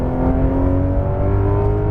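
Porsche 991.2 GT3 RS engine pulls hard out of a corner on a racetrack, a loud close-up rising whine and growl heard from inside the car, climbing steadily in pitch.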